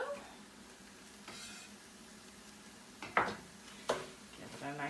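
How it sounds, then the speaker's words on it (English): Hot dog fried rice sizzling in a pan as it gets stirred, a quiet frying hiss with a few sharper scrapes and clinks near the end, close by with no talk. "Give it a nice little stir."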